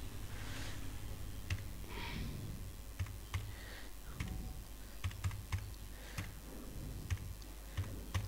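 Salary figures being typed into Microsoft Excel on a computer keyboard: a steady run of soft key clicks with sharper taps scattered throughout, close and continuous, with no talking.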